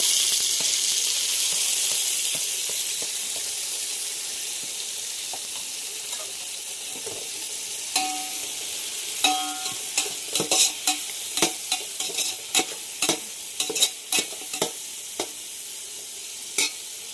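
Tomatoes frying in a pan for a village-style chicken biryani give a steady sizzle, and from about eight seconds sharp scraping stirs start up and repeat in an irregular rhythm, close by and with no voices.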